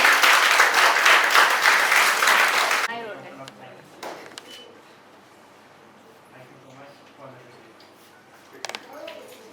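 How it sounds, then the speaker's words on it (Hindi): Loud audience applause at a ceremony for a cleft foundation event in Odisha, a dense burst of clapping that stops abruptly, followed by quieter room sound and talk. "जोरदार तालियां हो जाए दोनों के लिए।"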